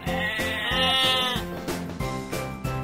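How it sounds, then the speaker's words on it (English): Sheep bleats from a toy-animal counting lesson, a few wavering, nasal cries in a row with musical backing underneath, close and fairly loud. "Sheep."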